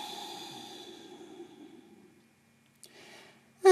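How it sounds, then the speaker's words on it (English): A slow, deep breath drawn in and let out, soft and close, with a long airy exhale that fades into near silence before a short sharp intake at the end. "take a slow, deep breath in, and breathe out"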